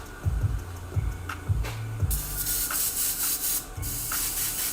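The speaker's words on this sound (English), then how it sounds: "Just spray some white on the other side." An airbrush sprays white paint onto a 3D printed Scorpion mask in bursts of hissing air, cutting in and out, with low rubbing and thumping handling noises early on.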